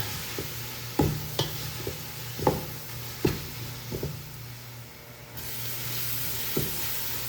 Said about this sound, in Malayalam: ഇനിയിപ്പോൾ ആ ഒരു ഇഞ്ചിൻ്റെയും വെളുത്തുള്ളിൻ്റെയൊക്കെ റോ ടേസ്റ്റ് ഒന്ന് മാറി വരുന്നവരെ നന്നായിട്ട് മൂപ്പിച്ചെടുക്കാം